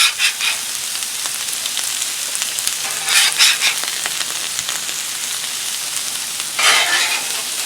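Potatoes sizzle steadily on a hot Blackstone griddle, with a few louder bursts of frying as pieces are tossed and scraped around.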